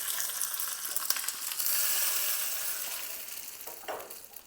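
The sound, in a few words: curry leaf tadka tempering poured, sizzling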